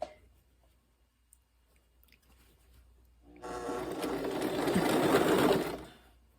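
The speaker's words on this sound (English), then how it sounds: "this little sewing machine has a built-in walking foot." A small sewing machine with a built-in walking foot, stitching a jelly roll quilt, runs in a steady buzzing whir for about three seconds after a quiet pause with a faint click, then winds down.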